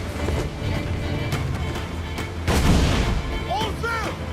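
Ship cannons boom in a naval battle from Assassin's Creed 4, a heavy low blast near the middle standing out over a dense wash of battle noise, with shouted voices and whistling tones late on.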